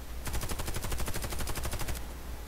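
Rapid automatic gunfire from the Warface first-person shooter game, a fast, evenly spaced burst of loud shots lasting close to two seconds, heard alone with no talking.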